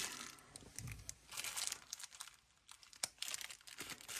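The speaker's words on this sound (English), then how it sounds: "Let me get into this bag right here and cut a few things open." Plastic bag crinkling and tearing as it is opened and cut into while unpacking traded knives, with close, irregular rustles and sharp crackles over about four seconds and no talking.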